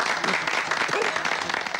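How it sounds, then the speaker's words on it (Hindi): A crowd applauds at a village gathering in a Hindi film scene, dense steady clapping throughout, fairly loud and close with no pauses. "तालियां।"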